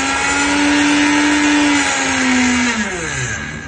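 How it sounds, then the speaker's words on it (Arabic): Red Silver Crest 15-speed blender with a copper motor winding and steel blades runs loud and close, a strong steady whirring hum that slowly drops in pitch toward the end as it winds down. "وصل لنا خلاط ماركة سيلفر كريستال الماني. طبعا اجانا هذا الخلاط ب 15 سرعة"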